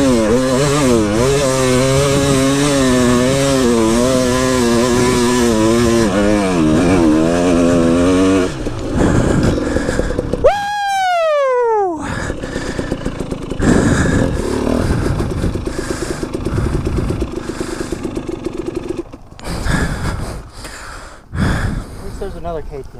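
KTM dirt bike engine on a desert hill climb, revving loudly and up close with rising and falling pitch, then dropping away, under people talking over the noise.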